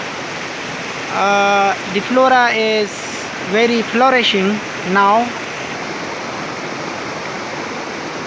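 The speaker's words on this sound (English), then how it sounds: "Plenty of water is present in the river." Swollen river in the Gokand area of District Buner rushing loudly after heavy rain, a steady broadband roar filling the scene while someone talks over it in several bursts.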